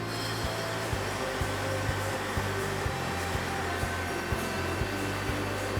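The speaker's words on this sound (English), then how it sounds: "This machine lifts all the bottles out of the boxes and they get put on the line." A brewery machine lifting bottles out of boxes onto the bottling line, making a loud, continuous mechanical drone punctuated by regular, evenly spaced knocks.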